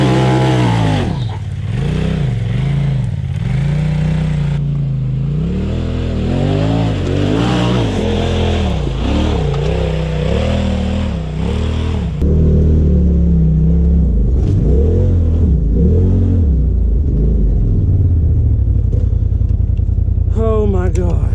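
Four-wheel drive vehicle engine on a hill at an off-road park, loud and close, repeatedly revving and easing off with rising and falling pitch, then holding a steady higher drone near the end, with people talking over it.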